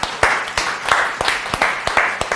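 A person claps hands about seven or eight times in a quick, steady rhythm. The claps are close and crisp, with a faint background hiss and no talk.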